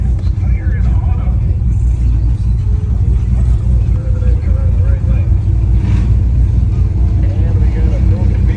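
A 1980 Malibu race car engine idling at the drag strip start line, a loud, steady, low rumble that continues unbroken with faint crowd and announcer voices underneath.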